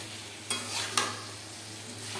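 Water poured into a hot pan of fried cauliflower and spices, giving a steady close sizzle with two sharp hissing bursts as it hits the oil, then settling back to a constant frying hiss.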